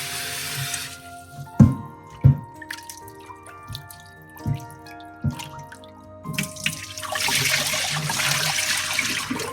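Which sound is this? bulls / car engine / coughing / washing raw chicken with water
washing raw chicken with water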